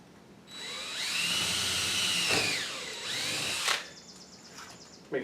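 A power drill whines steadily at high speed for several seconds, pitch dipping as it bites into steel during a mini split air conditioner install, then winding down, fairly close.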